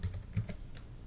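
A few quick keystrokes on a computer keyboard entering a short terminal command, light clicks close by and alone with no talking.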